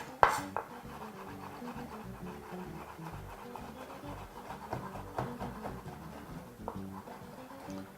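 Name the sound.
knife roughly chopping sandwich ham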